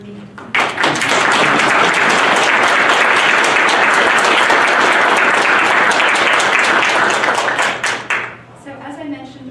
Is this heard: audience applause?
yes